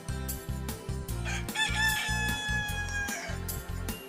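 A rooster crows loudly and close by, with a strained, rising call over a rhythm of low pulsing background sound.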